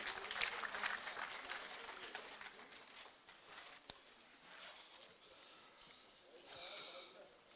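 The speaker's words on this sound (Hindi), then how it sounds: "बहुत जोरदार तालियों के साथ अभिनंदन कीजिए" Applause from an audience at a Karmayogi Award 2025 ceremony, welcoming Union Minister of State for Tribal Affairs Durgadas Uikey to speak; dense, steady clapping that carries on for several seconds, fairly distant and even.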